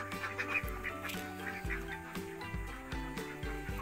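Laying ducks on a duck farm quacking repeatedly, several overlapping calls at moderate distance over a low background hum, without talk.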